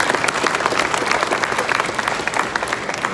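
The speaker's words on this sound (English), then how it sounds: "big round of applause" A crowd at an auto show press conference for Acura NSX IMSA champion race drivers breaks into sustained applause, many hands clapping in a loud, even roar that continues from start to finish.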